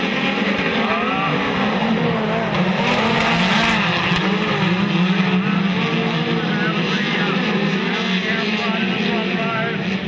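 Speedcars race at Maryborough Speedway on a Queensland dirt track at night, their engines a loud, continuous roar that rises and falls through the full stretch as the pack circles, with an announcer talking over it.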